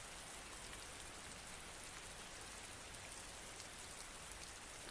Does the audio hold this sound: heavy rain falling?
yes